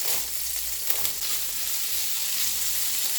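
Meat frying in a pan for fried rice, a loud, dense, continuous sizzle heard up close, steady for the whole short stretch with no talking.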